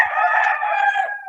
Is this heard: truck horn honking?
no